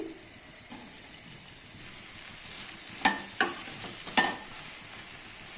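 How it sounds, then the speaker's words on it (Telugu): Okra pieces fry in oil in a pan with a steady, close sizzle, and a few sharp stirring scrapes come in quick succession near the end. "ఇప్పుడు స్టవ్ పైన ప్యాన్ పెట్టి ఆయిల్ వేసుకొని బెండకాయ ముక్కల్ని ఫ్రై చేసుకోవాలి"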